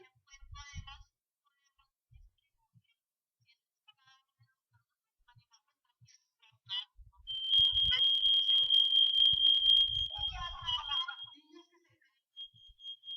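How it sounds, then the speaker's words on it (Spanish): A steady electronic alarm tone beeps for a few seconds at moderate loudness, with brief bursts of speech before and after it. "me pusieron la alarma."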